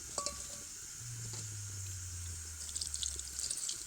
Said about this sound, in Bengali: এগুলোকে ভালোভাবে জল দিয়ে ধুয়ে নিতে হবে